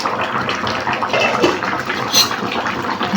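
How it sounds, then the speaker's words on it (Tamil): Kurma curry boils in a pot with a steady, close bubbling and gurgling wash that stays loud and even throughout. "இது குருமா வந்து நல்லா கொதித்து வரட்டு"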